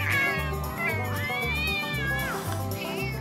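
A cat meows repeatedly, close and loud, in drawn-out wavering cries over a rhythmic background beat.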